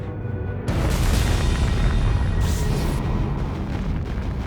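A rocket blows up during a failed launch, its guidance system having failed and sent it plunging earthward: a sudden loud roaring blast erupts and rumbles on as a sustained, heavy explosion with no voices.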